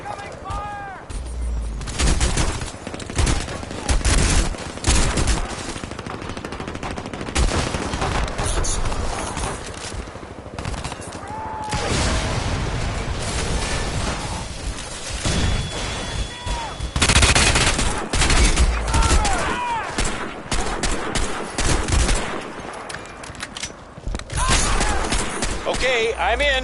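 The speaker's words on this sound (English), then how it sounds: "Incoming fire!" Dense gunfire from the video game Crysis, with rapid automatic bursts and heavy shots crackling almost nonstop and loud, while radio-style voices talk over the battle.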